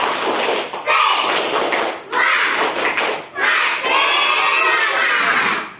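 Students in a classroom perform a rhythmic spirit clap in several quick bursts of sharp hand claps, loud and close, with children's shouts mixed in and short pauses between rounds.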